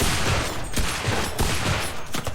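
Semi-automatic gunfire in the video game Enlisted fills the whole stretch as loud, dense, overlapping shots with no talk over it.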